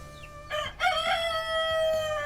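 A three-month-old Australorp rooster lets out one loud, close crow that rises and then trails off, over a quiet farmyard background.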